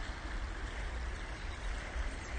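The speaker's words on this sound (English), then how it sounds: "You should have a nice sound of water in a minute." The River Trent flowing through the town of Stone, a soft continuous rush and trickle of moving water, steady and fairly faint with a low rumble underneath, no voices.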